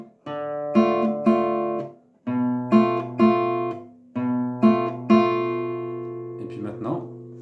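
A guitar plays measures 15 and 16 of the Lost Woods melody, short plucked phrases with brief pauses between repeated groups of notes. The playing is close and clear, and a voice is briefly heard near the end.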